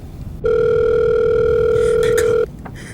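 A single long telephone tone on an outgoing 911 emergency call, a steady, loud electronic beep lasting about two seconds over a faint hiss, with no speech.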